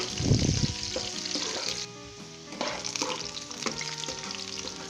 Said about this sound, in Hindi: चॉप किया हुआ अदरक डालेंगे, प्याज डालेंगे। और दोस्तों प्याज और अदरक को हम लाइट गोल्डन ब्राउन करेंगे।